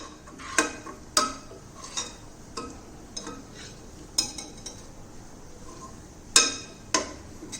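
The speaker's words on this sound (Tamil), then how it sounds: "இந்த மாதிரி ஒரு கரண்டி வச்சுட்டு ஒரு தடவை கலந்து விடலாம்" Coriander and curry leaf thokku in a microwave-safe dish being stirred with a metal spoon, sharp clinks and scrapes against the dish at irregular intervals, close and clear with no talking.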